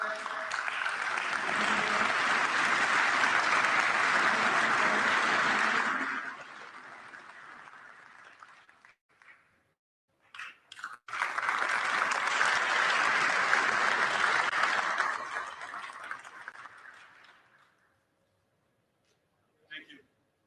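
A large audience at a FIFA officials' gathering in Vancouver breaks into loud, sustained applause for about six seconds, fades, then erupts in a second long burst of clapping before tapering to silence, with a brief clap at the very end.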